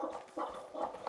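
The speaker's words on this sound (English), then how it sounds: "Now, where did my dog go? Don't you dare bark." Dog barking in the hunting video game theHunter: Call of the Wild, three short muffled barks in quick succession, close and moderately loud.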